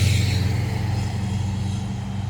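Cars passing on a road beside a cemetery in Paducah, Kentucky: a loud vehicle sweeps by at the start with a brighter hiss, then fades into a steadier low rumble of traffic, no voices.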